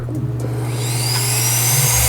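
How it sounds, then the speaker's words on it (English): A loud, steady whooshing electronic air duster runs close by, its whine rising as it speeds up, with no talking. "This electronic air duster is very strong, surprisingly."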